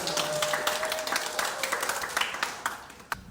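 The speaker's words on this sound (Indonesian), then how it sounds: "Tepuk tangan dulu dong." An audience at a youth politics talk event gives a light round of applause, scattered claps fairly close, fading toward the end with a final sharp clap.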